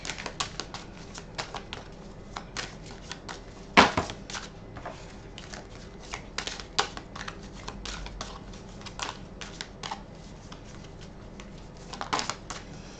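Oracle des miroirs cards being shuffled and drawn, a dense run of quick dry flicks and riffling taps with a couple of louder slaps, close and steady, no talking.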